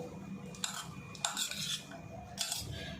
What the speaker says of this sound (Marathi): आता मी जरा मिक्स करून घेते